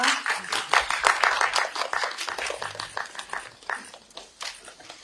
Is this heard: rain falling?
no